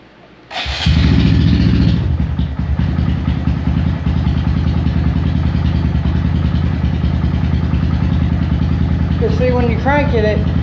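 A Honda Grom motorcycle engine cranks and catches, then settles into a loud, steady idle close by, with a voice briefly audible near the end.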